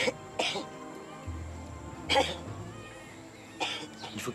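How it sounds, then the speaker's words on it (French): A woman coughs during a medical examination: short broadband bursts near 0.4 s, 2.2 s and 3.7 s, with a low steady hum and quiet background noise between them. "Toussez."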